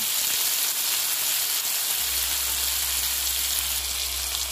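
Prawns frying in hot oil with turmeric in a wok give a steady, dense sizzle that holds throughout, and a low hum joins partway through.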